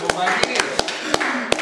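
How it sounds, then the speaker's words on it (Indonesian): Sparse, uneven hand claps during a podcast conversation, about eight distinct slaps spread over less than two seconds, with voices talking underneath. "Tepuk tangan dulu dong."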